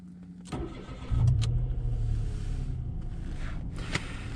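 A 2021 Mitsubishi Space Star 1.2 three-cylinder engine cranks briefly and catches, settling into a low, even idle with a few faint clicks inside the cabin.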